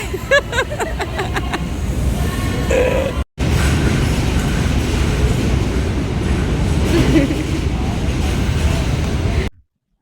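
Loud, steady rumble and rattle of a moving train on a journey from Charlapalli to Samarlakota fills the clip, with a brief cut near the start and voices faintly mixed in.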